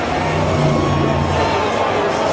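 A dense, steady roar of a large crowd at a NASCAR Cup Series race, loud and continuous with engine-like rumble beneath the babble.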